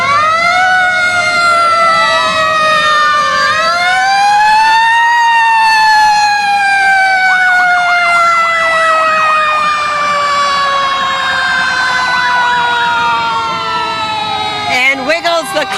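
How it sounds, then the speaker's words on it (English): Fire truck sirens wail loudly through a veterans parade in Kenosha, on trucks built there by the Peter Pirsch Company: several overlapping sirens rise and fall continuously and close by, with a short clatter at the end. "we're starting the parade over again with fire trucks"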